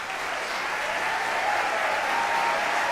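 Steady, dense applause from an audience for standing board members at a Highbridge Voices event, continuous and fairly loud throughout.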